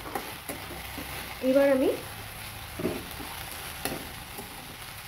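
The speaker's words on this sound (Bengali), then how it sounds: "তো এটা আমার দেখো হালকা ভাজা হয়ে গেছে" Nutrela chowmein sizzles and fries in a pan as it is stirred, a steady crackling hiss broken by a few sharp scraping stirs, with a voice speaking briefly over the cooking.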